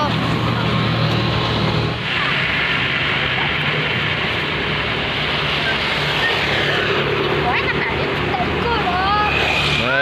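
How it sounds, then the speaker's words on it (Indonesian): A tour bus rumbles past on an Indonesian road, a loud, close engine drone with a low steady hum that shifts midway as the vehicle goes by, with traffic noise and a voice speaking over it. "bus pariwisata."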